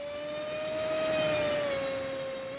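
A small RC plane engine in the RealFlight Evolution simulator video game whines at a high, steady pitch, swelling slightly louder as it passes near and then easing off, with no voices.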